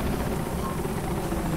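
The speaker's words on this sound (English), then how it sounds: "oh, crap. Incoming helicopter." A helicopter approaching in the video game Mirror's Edge Catalyst gives a steady, dense rotor and engine roar that fills the whole short stretch at an even, close level.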